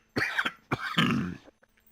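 Two harsh, throaty coughs in the video game Dungeons & Dragons Online follow each other closely, the second one longer and rougher, loud and near with quiet afterward.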